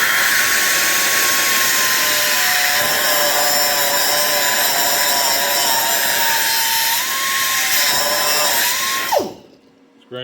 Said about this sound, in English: This grinder has so much power,